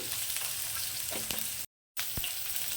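Eggplant pieces fry in a pan for a Bengali fenugreek-greens dish with potato, giving a steady close sizzle with a few soft stirring knocks, broken by a brief silent gap.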